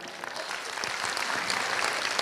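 Applause from an audience at a business talk, a steady wash of many hands clapping that swells slightly louder toward the end, with no voices over it.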